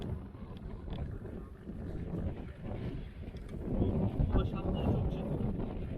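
Outdoor wind gusts rumble against the microphone on Galata Bridge in Istanbul during a fishing session, a steady low roar that swells toward the end, with faint background traffic and boat noise mixed in.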